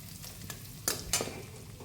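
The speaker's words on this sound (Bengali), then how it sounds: "কুঁদরিগুলো দিয়ে কুঁদরি কিন্তু ভালো করে ভাজতে হবে" Ivy gourd pieces frying in a pan with black cumin and ginger, giving a soft continuous sizzle punctuated by a few sharp spatula scrapes and stirs near the middle.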